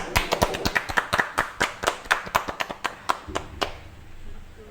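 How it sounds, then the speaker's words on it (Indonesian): A small audience at a West Java literacy ambassador event claps: a handful of crisp, distinct claps in a quick uneven rhythm that thins out and stops before the end, leaving a quiet room. "Tepuk tangan"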